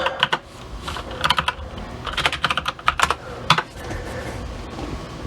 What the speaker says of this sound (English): I'm going to try to type Uptown High Stone Tobacco.